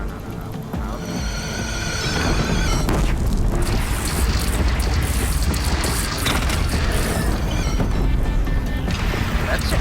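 Massive cannon in Horizon Zero Dawn firing bolts drawn from a nearby cliff, building from a rising mechanical whine into a loud, sustained booming roar of crashing impacts and rumble that continues to the end.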